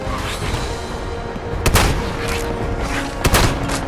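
Shotgun blasts in Fallout 76, two loud, sharp booms about a second and a half apart rising over a steady bed of game noise, with no talk.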